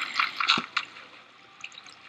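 Minecraft water flowing and splashing across blocks, a few short bright splashy bursts in the first second, then a faint trickling wash that fades.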